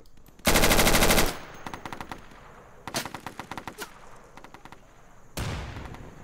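Automatic machine gun fire in the video game Insurgency: one long sustained burst, then a string of shorter rapid bursts, and a final burst starting near the end, loud and close.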